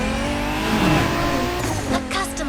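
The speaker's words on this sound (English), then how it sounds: "A customized Lamborghini Aventador." A customized Lamborghini Aventador races in the video game The Crew Motorfest, its engine roaring steadily up close with a brief tire squeal as it accelerates.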